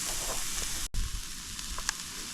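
Chorizo sizzles and crackles steadily in a hot pan at an outdoor wild camp, with a brief interruption and a few small pops, close and continuous.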